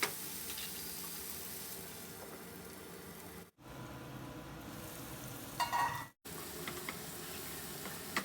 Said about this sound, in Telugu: ఇలా ఫ్రై చేసుకొని ఈ టమాటా ముక్కల్ని కూడా వేసేసి ఒకసారి ఇదంతా బాగా కలిపి